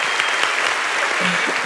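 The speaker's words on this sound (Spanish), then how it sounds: "Un aplauso para Nati." A studio audience at a comedy show applauds Nati in a short, dense burst of clapping that is loud and continuous throughout.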